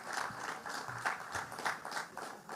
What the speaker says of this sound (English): We can give them a round of applause for winning the championship 3 years in a row